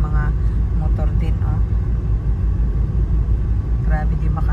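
Dense street traffic of motorbikes and cars in Ho Chi Minh City rumbles steadily and loudly up close, a constant engine drone with occasional brief horn-like tones, while people talk over it.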